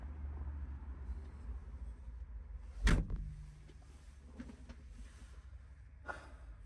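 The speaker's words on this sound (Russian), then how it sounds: "Закроем дверь." The cab door of an LGMG H735 telehandler swings shut with a single solid thud. Soft rustling and handling noises follow in an otherwise quiet cab.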